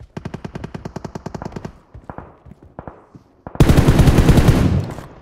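Rapid automatic gunfire from a video game rattles in a fast even burst, then scattered single shots follow before a dense, loud wash of continuous firing and noise closes out.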